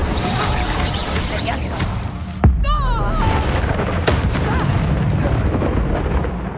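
Spell blasts in the video game Hogwarts Legacy, a loud booming explosion followed by crackling magical effects and a sharper hit, over continuous game combat noise.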